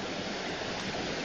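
Cold river water flowing steadily at a vacation spot, a broad continuous rushing wash heard close and fairly quiet, with no talk over it.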